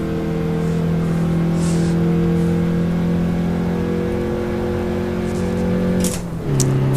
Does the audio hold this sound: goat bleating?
no